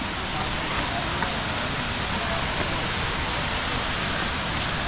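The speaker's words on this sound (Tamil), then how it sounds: "தண்ணி ஃபோர்ஸாக விழுகுது" The Thirparappu waterfall pours down forcefully in a loud, unbroken roar of rushing water that stays steady throughout, heard up close with no voices.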